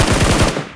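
A short, loud burst of rapid automatic gunfire in the battle-royale game PUBG Mobile fires about six shots in quick, even succession, close and punchy, with no voice over it.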